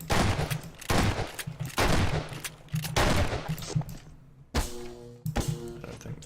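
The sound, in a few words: gunfire shooting boxes in the video game Half-Life 2 Deathmatch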